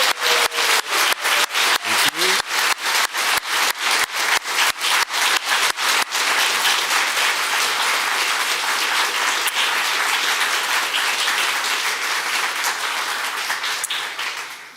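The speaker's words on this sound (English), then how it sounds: "I'm going to just invite us to applaud everybody I've just named for their" An audience at an Indigenous AI gathering first claps in a slow unison rhythm, about twenty sharp even beats, then breaks into sustained loud free applause that fades at the very end.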